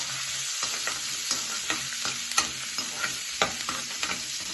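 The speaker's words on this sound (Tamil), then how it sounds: "இது பூண்டும் வெங்காயமும் கட் பண்ணியிருக்கேன். சின்ன வெங்காயம் இருந்தால் போட்டுக்கோங்க. நல்லா வதக்கணும்." Chopped garlic and onions sautéing in a pan for a spicy brinjal kara kuzhambu: a constant sizzle broken by regular scraping stirs of a spoon against the pan, close and clear, with no voices.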